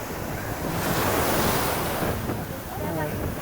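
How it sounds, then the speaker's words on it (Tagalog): Strong ocean waves surge and crash in a continuous roar, with wind buffeting the microphone throughout. "So, grabe, lakas ng alon."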